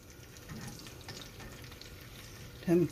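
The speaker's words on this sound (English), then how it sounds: "I'm cooking in my old cast iron skillet, which I dearly love." Food frying in an old cast iron skillet gives a faint, steady sizzle with light stirring, and a brief murmur of a voice near the end.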